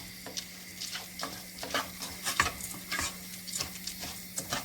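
Rice toasted with salt in a pan for pilaf, stirred steadily with a utensil: a continuous soft sizzle broken by repeated scraping strokes and light clinks, close and moderate in level, no voices.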